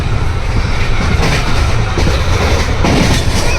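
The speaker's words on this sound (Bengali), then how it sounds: "আমাদের ট্রেন চলছে" A passenger train runs between Burdwan and New Jalpaiguri, heard from inside the carriage as a loud, close, unbroken rumble and roar with faint rhythmic rattling.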